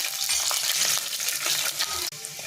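Garlic crackles in hot oil with mustard seeds, cumin and fenugreek, a close, busy sizzle with scattered pops and stirring scrapes, cut by a brief pause near the end; no voice.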